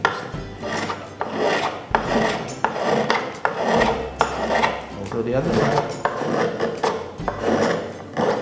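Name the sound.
hand shaver planing wood flush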